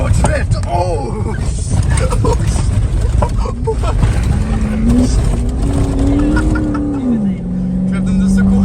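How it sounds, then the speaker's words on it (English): A Toyota Sequoia SUV drifts across desert ground, its engine roaring loud and close with a revving pitch that climbs and falls, while people talk and shout excitedly over it. "Drift in the Sequoia in the desert"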